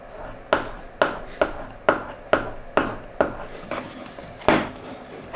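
Swiss carving tools are sharpened with an abrasive stick in about a dozen short, rhythmic rasping strokes, each a sharp scrape that fades quickly, close up with no talk.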